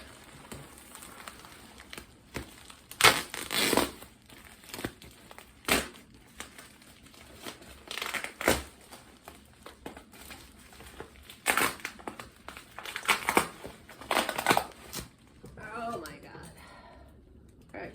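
Crinkly plastic wrapping on an orchid shipping package crumples and crackles in bursts as someone struggles to open it, with rustling peaks scattered throughout and a voice speaking briefly near the end.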